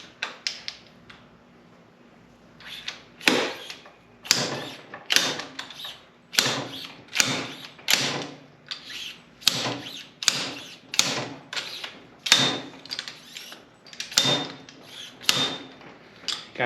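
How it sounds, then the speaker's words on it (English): A driver tool taps a silver washer spacer down into a motorcycle fork tube during fork seal replacement, with a steady series of sharp metallic knocks about once a second, close and loud, and no talking. "first thing you're going to want to drive down in there is your washer. That silver washer spacer we put on there."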